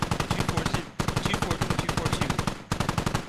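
Sustained automatic machine gun fire in a military video game, rapid evenly spaced bursts with two short breaks, loud and close.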